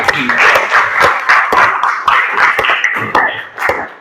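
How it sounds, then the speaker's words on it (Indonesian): A class of students claps together at the end of an Islamic religious education lesson on faith in divine decree, with sharp, fairly regular claps close by and some voices mixed in. "Tepuk tangan buat kalian semua."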